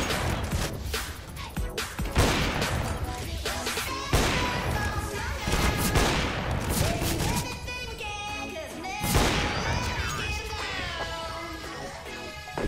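Dense bursts of gunfire from the game CS:GO, repeated shots and rapid volleys running throughout, loud and close, with players talking over the shooting.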